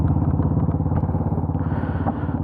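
A TVS Apache RR310 BS6 motorcycle with a BMW-derived engine thrums close up as it is ridden, giving a loud, steady pulsing engine note with no talking.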